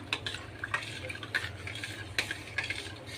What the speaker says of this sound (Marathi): गूळ चांगला मिक्स होईपर्यंत आपण पूर्णपणे त्याच्यात मेल्ट होईपर्यंत आपण ढवळून घेऊया